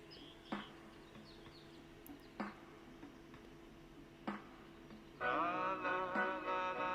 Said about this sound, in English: Oh, here are the birds.